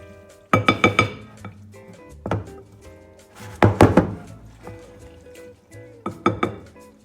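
Ceviche being mixed in a bowl, with several bursts of clinking and scraping, each a quick cluster of knocks, heard up close with quiet gaps between them.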